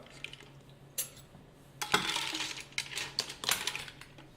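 Previously cooked mussels tumble into a frying pan for a black pasta dish, their shells clinking and clattering against the metal in a few sharp knocks, then a busier rattle as more land.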